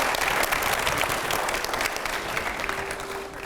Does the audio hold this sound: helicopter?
no